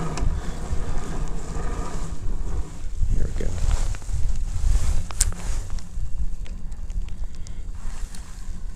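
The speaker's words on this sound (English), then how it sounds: "the wind's blowing me into the rocks" Wind gusts across a winter lake around a kayak, a steady low rumble and buffeting that fills the whole stretch, with water slapping near the hull.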